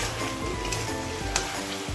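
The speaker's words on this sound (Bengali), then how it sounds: "এখন এটাকে ঢাকা দিয়ে তেল বেরোনো অবধি কষিয়ে নেব, দিলাম কাঁচা লঙ্কা আর পরিমাণ মতো নুন, টমেটো দিয়ে দিলাম" Green chili, salt and tomato frying in oil, covered and cooked down until the oil separates, giving a steady close sizzle with faint stirring scrapes and one brief sharper crackle.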